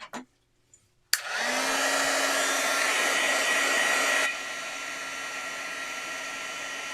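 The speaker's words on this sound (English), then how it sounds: "Use the heat gun." Heat gun blowing hot air indoors, switched on with a click after a moment of quiet and then holding a steady loud whooshing hiss with a motor whine that drops to a lower setting partway through.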